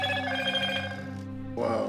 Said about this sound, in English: My phone, sorry